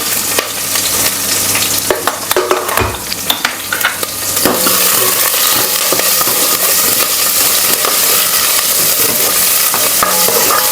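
Garlic and green chilies fry in oil in a pan: a loud, dense, steady sizzle right up close, with scraping and clatter of stirring in the first few seconds, then an even roar of hissing oil.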